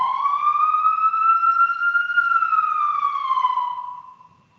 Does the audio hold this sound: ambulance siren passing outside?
yes